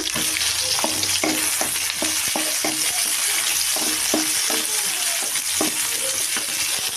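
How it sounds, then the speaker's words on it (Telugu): Sliced tomato, green chillies and curry leaves with onions frying in a pan for chicken pepper fry, giving a loud, constant sizzle with repeated spatula scrapes and stirring taps close by, with no talking. "వేగనివ్వాలి."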